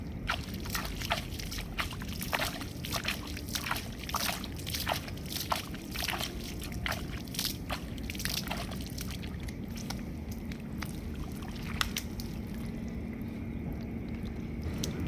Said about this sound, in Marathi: आपण पाणी काढूया